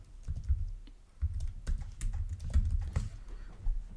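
Typing on a computer keyboard while writing Java code, with irregular clusters of close, clicky keystrokes separated by brief pauses, heard alone.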